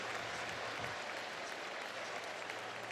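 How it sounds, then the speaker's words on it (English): Football stadium crowd at a Tennessee vs Texas A&M game applauding an injured player as he heads to the locker room, a faint, steady wash of distant clapping. "the fans give him a round of applause now as he's heading to the locker room"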